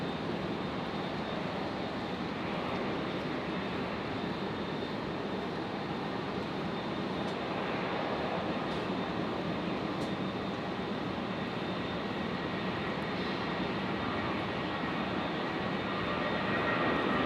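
Jetstar passenger jet departing Brisbane Airport for Canberra, a steady broad engine roar that holds throughout and swells slightly toward the end, heard from a distance with no talk.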